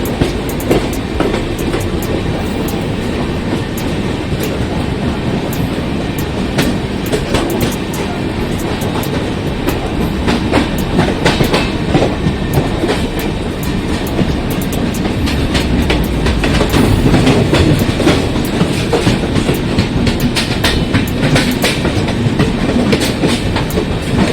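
A train rolls past on a busy Indian railway route, a loud continuous rumble with rapid clickety-clack from the wheels and no gaps for the whole stretch.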